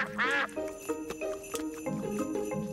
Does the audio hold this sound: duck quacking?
yes